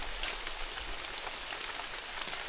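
Rain pours down in a rainforest, a dense, even patter and hiss of drops striking leaves and ground, steady and close with no voices.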